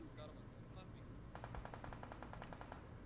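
Rapid automatic gunfire in the mobile battle royale game PUBG Mobile rattles off in a quick burst of evenly spaced shots, fairly faint and partly under a voice.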